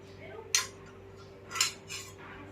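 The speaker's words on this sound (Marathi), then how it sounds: "आता हा कुकर मी झाकून ठेवणार आहे" Metal clinks as a pressure cooker lid is closed, two or three sharp clanks with short pauses between them in an otherwise quiet room.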